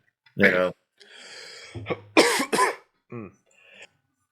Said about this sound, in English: I just can't get rid of the damn cough.